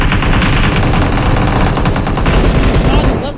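Loud, rapid automatic gunfire in PUBG Mobile, a continuous close burst of shots lasting several seconds, with a player's voice faintly underneath.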